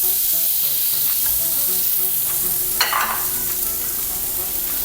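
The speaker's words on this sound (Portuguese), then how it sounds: "A minha panela tá quente porque eu acabei de tirar a carne, então vou colocar aqui os meus vegetais." Strips of bell pepper sizzle loudly and steadily in a hot pan just used for searing beef, with a brief burst of crackling and clatter as they are stirred.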